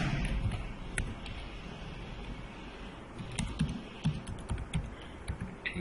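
Someone types a password on a computer keyboard, with soft scattered key clicks that grow quicker and louder toward the end over a low background hum.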